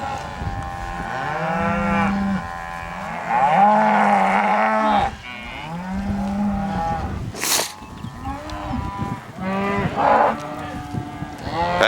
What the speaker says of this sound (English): cattle are herding prey animals, and they have that instinct to herd, to bunch up, to be together, especially when they're stressed a little bit